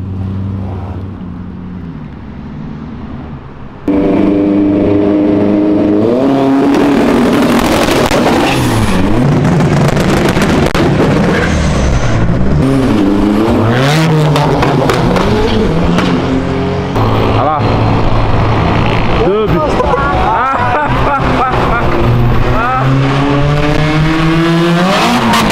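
Cars leaving a car meet rev and accelerate hard, loud and close, with engine pitch climbing and falling through repeated throttle blips and gear changes, while people shout and talk over the roar.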